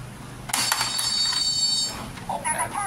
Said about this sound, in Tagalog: pag pinush to, mag-o-open yung gate, saka mag-alarm uli siya